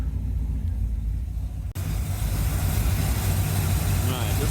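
A 1981 Corvette engine idles close by with a freshly rebuilt carburetor, a steady low rumble that shifts after a brief dropout near the two-second mark and carries on evenly, with no talk over it.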